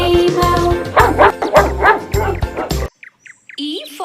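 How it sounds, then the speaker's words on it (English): A dog barks in a children's alphabet song, a few loud close barks in a quick rhythmic series set among singing and music, followed by short chirpy yips. "D for dog."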